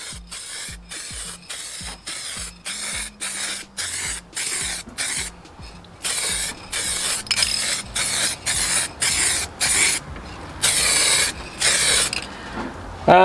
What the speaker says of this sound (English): So just a light spray first to make sure I've got a half decent coverage,